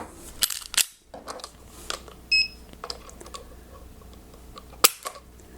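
A handgun trigger being pulled during a trigger pull weight test, giving a few sharp, close mechanical clicks spread over several seconds against quiet room noise, with a brief electronic beep between them.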